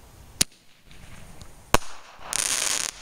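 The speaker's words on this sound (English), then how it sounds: "What's that? Like a smoke bomb." Firework bangs on Victoria Day: two sharp loud cracks about a second apart, followed by a sustained hissing, fizzing burst like a smoke bomb going off, heard outdoors with no talk.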